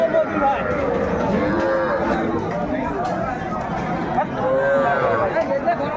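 Young bulls and heifer calves at the Raniganj cattle market moo loudly and repeatedly, drawn-out calls rising over constant crowd chatter and nearby voices of people talking.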